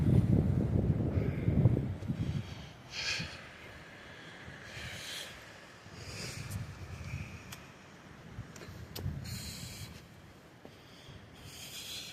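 Wind gusting across a hiking trail near Sprague Lake in Rocky Mountain National Park, a low rumbling buffet that swells strongly at the start and returns in softer waves, with faint higher hiss between gusts.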